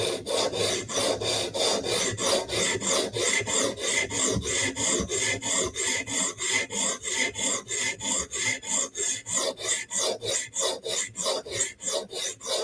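A Bestech tanto knife with a D2 steel blade is drawn across a sharpening stone in fast, even rasping strokes, dozens of them in a steady rhythm, close and alone.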